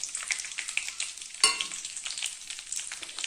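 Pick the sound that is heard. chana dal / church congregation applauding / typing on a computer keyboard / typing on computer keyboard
chana dal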